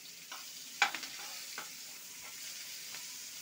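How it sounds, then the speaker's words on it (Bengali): Onions going into hot oil with dried red chillies and garlic for a Bengali fish curry, giving a soft, steady sizzle with a few brief stirring scrapes near the start, fairly quiet and close, with no talking. "পেঁয়াজটা আমি তেলে দিয়ে দিচ্ছি।"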